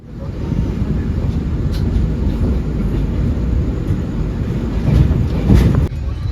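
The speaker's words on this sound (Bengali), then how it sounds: "তো ট্রেন আমাদের ব্যান্ডেল জাংশন ছেড়ে দিয়েছে, আমাদের পরের স্টপেজ হচ্ছে নবদ্বীপ।" Kolkata–Agartala Garib Rath Express pulling out of Bandel Junction, heard from inside the coach as a steady, loud low rumble with faint wind-like hiss and no voices.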